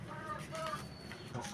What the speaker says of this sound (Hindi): ये हमारी मुर्गी अंडा देने के लिए बेचारी डिस्टर्ब हो रही है, इसको जगह ही नहीं मिल रही।